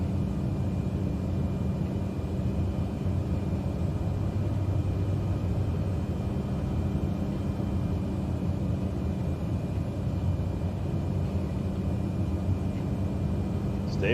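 Airplane engine in Microsoft Flight Simulator 2020 during a flight from EGPA, a steady loud droning rumble that holds without a break throughout.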